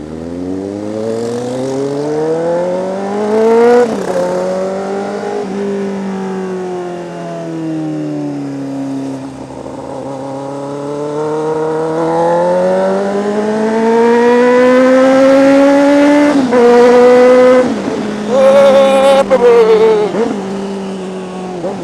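Motorcycle engine and exhaust revving hard while riding on a Saturday night, loud and close, climbing through repeated gear changes with rising and falling pitch and sharp throttle blips near the end.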